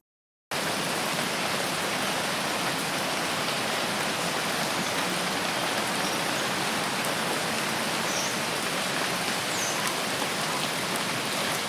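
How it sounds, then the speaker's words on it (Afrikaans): Steady broadband rain pouring without a break, a dense even hiss of drops on a surface that stays loud and close throughout, with no voices. "Reën."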